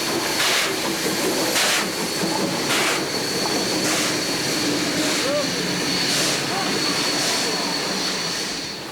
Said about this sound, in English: Once out of the short tunnel to the south of the station, Heartland passes the locomotive depot